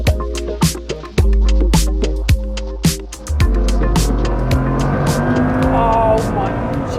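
The world's fastest car, driven at around 300 mph, roars loudly and steadily as it accelerates, its engine note shifting upward, heard close from inside the cabin with brief voices over it.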